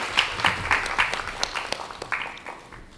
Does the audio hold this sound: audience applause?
yes